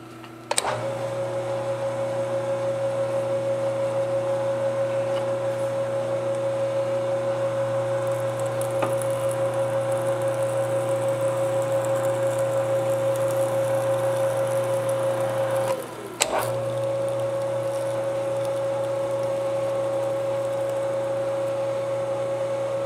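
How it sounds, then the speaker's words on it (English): Power tapping pipe threads on an instant reversing spindle machine: a steady motor hum with a sustained tone, a sharp click and brief dip around the reversal, then the spindle running again, loud and close with no talking. "I'm going to power tap all of these because I don't want to turn a tap wrench that much"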